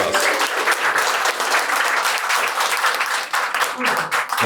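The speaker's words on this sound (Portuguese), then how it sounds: "Palmas." Audience applause at a ceremony unveiling founders' portraits for a union gallery, sustained dense clapping filling the room throughout, loud and close, with voices faintly mixed in.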